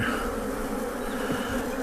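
Dense, continuous buzzing of many honeybees swarming around an opened, broodless beehive during hive inspection, loud and close without pause.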